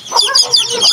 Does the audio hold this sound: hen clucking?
yes